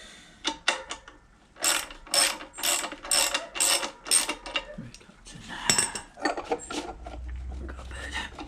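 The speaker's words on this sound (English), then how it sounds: "Tighten the bolt up at the end." Repeated ratchet clicks tightening a bolt during clutch and flywheel fitting on a 1955 Fordson Major tractor, in close bursts of rapid ratcheting strokes with brief pauses, no talking.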